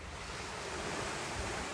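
Ocean waves washing in a soft, continuous surf hiss, steady and fairly quiet with a little wind texture, no voices.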